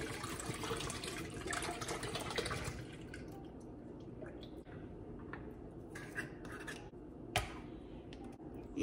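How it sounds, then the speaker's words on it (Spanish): Evaporated milk pours into a drink of mazapán, a dense rushing stream for the first few seconds that thins into scattered drips and small splashes. "Y ahora le voy a agregar la leche evaporada."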